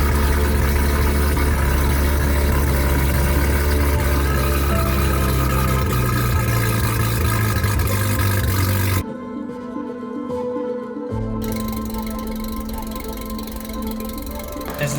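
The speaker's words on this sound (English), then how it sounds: "basically it being revved a little bit, but ends up idling on its own at the end" A Mazda RX-7 rotary engine, started for the first time in 20 years, revs up and down a few times, then settles into a steady idle after a brief dip, loud and close.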